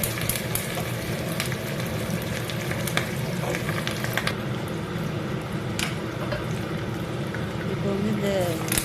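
Curry leaves crackle and sizzle in hot oil with cumin and cashews for sambar rice, a steady dense frying hiss with scattered sharp pops throughout, under a faint background voice.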